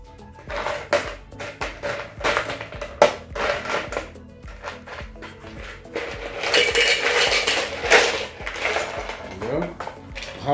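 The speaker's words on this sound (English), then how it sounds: "We're gonna fill our tin full with ice cubes." Ice cubes clatter and rattle into a metal cocktail shaker tin while a tequila Toreador is mixed, a dense run of close, loud clinking and scraping over about ten seconds.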